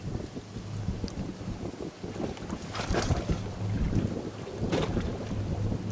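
High-speed passenger boats run past on a Vietnamese waterway, a distant, wind-buffeted engine drone with low steady hum and swelling surges as they pass, no voices.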